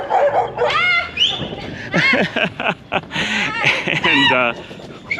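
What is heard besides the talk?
dogs barking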